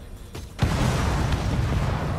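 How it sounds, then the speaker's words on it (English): A loud explosion goes off in Oddworld: Soulstorm, one sudden close boom followed by a sustained rumbling roar that lingers to the end. "Explosion."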